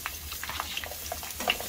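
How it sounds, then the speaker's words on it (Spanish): Chopped onion and garlic fry in a pan for a green mole, a soft, quiet sizzle with faint crackles and stirring scrapes, no speech. "vamos a freír la cebolla y los ajos"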